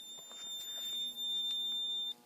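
A thin, steady electronic tone sounds from a fire alarm panel during a duct smoke detector test, faint and continuous, cutting off abruptly near the end amid light clicks.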